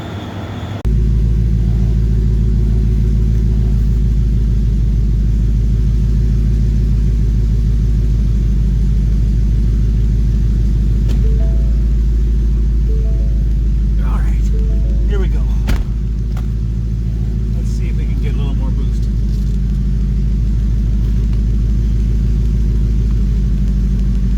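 A car engine idles with a deep, loud rumble, then revs briefly a few times before settling back to a steady drone.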